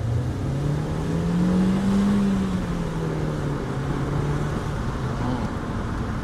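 A Vauxhall Astra 1.4 engine pulling in first gear at low speed, a loud, steady interior drone whose pitch rises and then eases off, with constant road and cabin noise and no talking.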